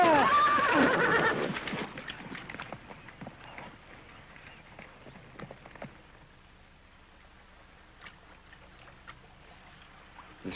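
A horse lets out a loud, close whinny at the start, the cry fading within two seconds into quieter shuffling and scattered hoof thuds.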